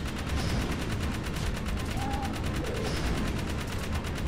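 Weapon fire in the video game Jak 3: a sustained, fast, regular stream of shots fires steadily at moderate loudness, with no voices over it.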